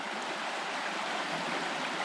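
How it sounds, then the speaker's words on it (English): A small waterfall in a woodland brook gives off a steady, even rush of water, close and continuous with no breaks. "another small waterfall"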